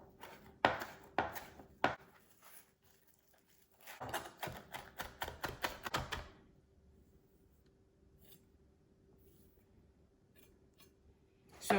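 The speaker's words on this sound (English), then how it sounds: "I put them together and then just chop them" A knife chops thyme, rosemary and parsley on a board in sharp, rapid bursts of taps, a run early on and a denser flurry after a pause, then a quiet hum.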